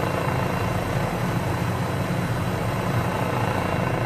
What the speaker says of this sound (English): This helicopter is very noisy